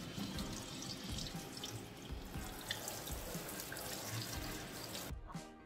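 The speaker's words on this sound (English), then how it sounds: "Let's burn the plants with hot water." Hot water from a tap pours steadily over potted plants during a plant-shelf cleaning, a continuous close splashing with light drips that cuts off abruptly near the end.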